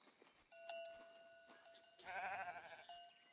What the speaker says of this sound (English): We've actually got sheep.